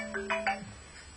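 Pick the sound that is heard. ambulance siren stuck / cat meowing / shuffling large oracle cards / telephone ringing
telephone ringing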